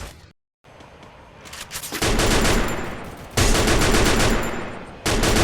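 Automatic gunfire in the battle royale mobile game Free Fire, loud rapid bursts of shots with brief pauses between volleys, the last burst cutting in after a short gap.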